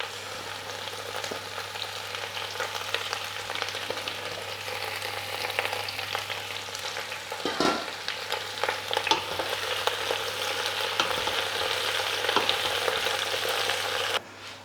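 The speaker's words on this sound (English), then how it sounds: "by frying in the olive oil there." Vegetables for a yellow pepper soup frying in olive oil and being stirred, a steady close sizzle with scraping stir sounds throughout and a brief louder clatter midway.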